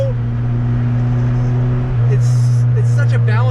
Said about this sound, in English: Just hear that turbo.